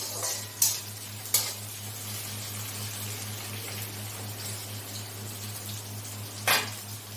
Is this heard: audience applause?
no